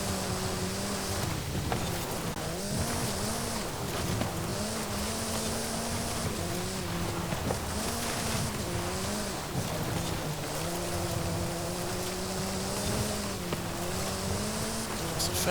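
2007 Peugeot 207 Super 2000 rally car engine in Forza Horizon 5, driven off-road, a steady loud drone with repeated rev rises and drops through gear shifts, with faint talk beneath.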